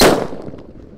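An unwrapped red Blackbuster firecracker goes off in a single loud, sharp blast up close, its broad crack fading quickly into a brief rumbling tail.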